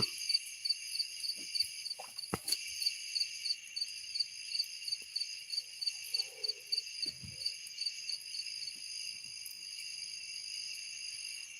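Crickets chirp in a steady, pulsing chorus against a quiet night background, with tree frogs and a few faint distant sounds scattered underneath.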